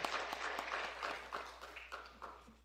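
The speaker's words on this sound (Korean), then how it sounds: "다시 한번 큰 박수로 이분들을 축하해 주시기 바랍니다." Church congregation clapping during a Sunday worship service to congratulate retiring members, soft, distant patter of many hands with individual claps standing out, fading toward the end.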